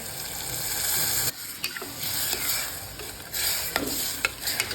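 Guar bean and potato curry sizzling in a pan while being stirred, a dense continuous hiss of frying with scraping strokes of the spoon, close and without talk.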